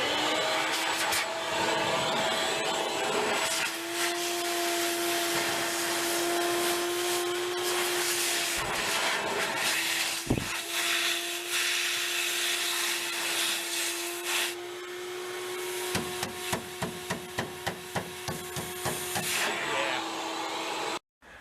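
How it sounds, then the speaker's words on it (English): The exhaust of a vacuum cleaner drives a loud, steady whine of air through the muffler of a 1931 Ford barn find. It carries a constant hum, with sputtering rattles toward the end before it cuts off abruptly. "You try the exhaust of a vacuum cleaner."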